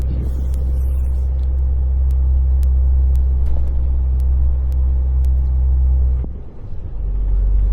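A car drives along a muddy winter road in the Czech Republic, where the snow has been pushed aside into slush. A steady, close low rumble of engine and tyres runs throughout, with faint ticks above it and a brief dip near the end.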